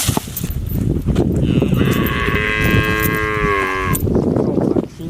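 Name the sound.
buffalo mooing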